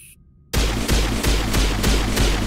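Rapid automatic gunfire from the player's weapon in Mass Effect Legendary Edition, a steady loud rhythmic stream of shots that starts abruptly after a short quiet moment and keeps firing evenly to the end.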